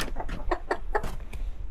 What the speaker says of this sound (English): Shout out to the little chicken down there.